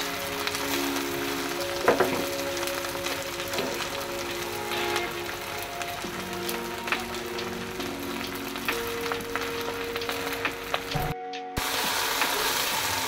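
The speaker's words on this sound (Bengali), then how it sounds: "আমি তেলের মধ্যে পেঁয়াজ আর দিয়েছি হলো সরিষার তেল, পেঁয়াজ সরিষার তেল, তার মধ্যে দিয়ে দিয়েছি লবণ আর শুকনো মরিচ" Onion frying in mustard oil with salt and dried chili crackles and sizzles steadily up close, with faint stirring clinks, a brief cut near the end, then sizzling again.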